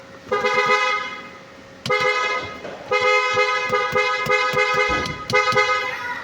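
A Honda CR-V car horn blares in several long honks separated by short gaps, loud and close, with clicking in between, after a steering wheel horn button repair.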